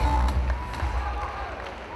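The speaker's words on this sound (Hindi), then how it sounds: "जोरदार तालियां होनी चाहिए इनके लिए" Indoor stadium audience applauding at an awards recognition event in Odisha, a steady dense wash of clapping that stays loud for the whole stretch, with a voice talking over it.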